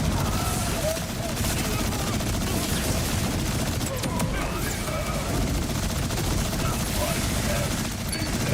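Unbroken automatic gunfire from a Rafa build in the video game Borderlands 4 rattles on for the whole stretch, loud and dense with scattered explosion booms and game effects mixed in.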